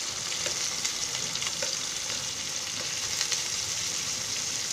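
Bitter gourd (karela) slices frying in hot oil, a loud, dense, continuous sizzle with faint crackles, heard close and alone with no voices.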